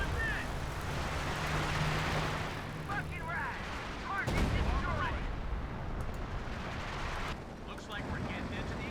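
Rocket artillery fires in the World War II strategy game Company of Heroes 2, with a rumbling barrage of booms and whooshing launches under a steady battle din, while someone talks over it.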